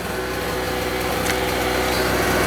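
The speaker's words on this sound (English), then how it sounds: "I've got the sander going here, and you can see all the dust on the counter and on things" Power sander working a butcher block wood countertop, a continuous loud buzzing hum with a steady motor drone and grainy abrasive hiss, close and unbroken throughout.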